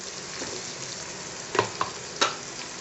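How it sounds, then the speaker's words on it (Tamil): Chopped onions sautéing in a pan for Tamil garlic powder rice, a steady soft sizzle with a few brief stirring clinks near the end, close and moderately quiet with no voices. "நல்லா வதக்கி விடுங்க. வெங்காயம் நல்லா பொன்னிறமாக வதங்கட்டும்."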